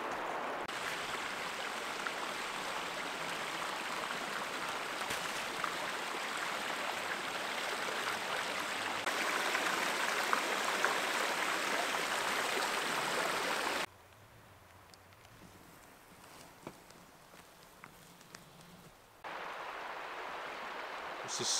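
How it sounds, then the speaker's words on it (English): Rushing river rapids seen from a canoe, a steady broadband wash of flowing water that drops abruptly to a quieter flow partway through, then returns louder near the end. "Rapids right there."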